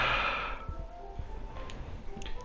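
A sharp breath drawn in through clenched teeth, then soft breathing, in the Doki Doki Literature Club video game; fairly loud at first, then fading into quiet ambience with faint small noises.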